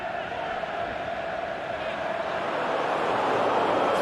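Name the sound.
crowd applauding in PES 2020 video game football match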